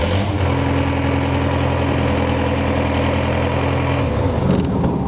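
A skid loader engine idles steadily at close range with a low, even hum and drone, running unbroken with no talk until a slight change in tone near the end.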